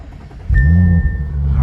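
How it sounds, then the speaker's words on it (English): A 2019 Audi RS5 Sportback engine starting up: the starter catches after a brief quiet moment, and the engine settles into a loud, steady, deep rumble close by. "So let's just start her up."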